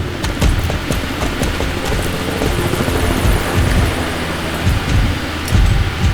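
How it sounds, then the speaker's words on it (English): A loud, rumbling roar like a large aircraft engine with rapid rhythmic chopping throughout, dense and close, from a plane crashing in a video game. "There was a plane crashing."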